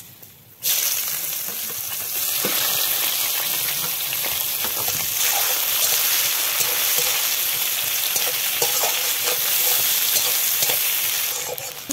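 Onions and whole spices (dried chilli, cardamom, cinnamon, cloves, cumin, bay leaves) hit hot oil in a pan with a sudden burst of loud sizzling that settles into a steady, crackling fry for several seconds, no voices.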